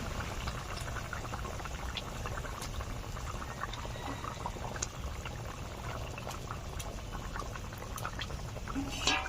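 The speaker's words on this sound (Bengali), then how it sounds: "ভালো করে জাল করে ঝোলটাকে ফুটিয়ে নিতে শুরু করে দিয়েছে" Rohu fish curry broth boiling in a pan, a steady close bubbling and simmering with small pops throughout, loud and continuous.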